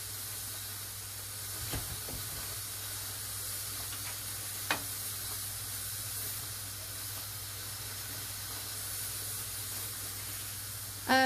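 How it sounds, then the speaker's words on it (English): Turkish chicken with rice, made from canned and dried food, bubbles in a pan on raised heat as a steady, even hiss and sizzle with a few faint clicks, close by and without talking. "I'm going to raise the temperature up because I really want it to boil"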